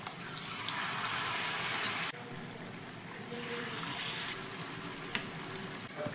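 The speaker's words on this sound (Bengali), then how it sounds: "এবার উপর থেকে একটু করে গরম তেল ছিটিয়ে দিচ্ছি, যাতে উপর দিকটা সুন্দর করে ভাজা হয়ে যায়" Semolina snacks fry in a pan of hot oil as oil is spooned over their tops, a steady close hiss and sizzle with occasional small splashes.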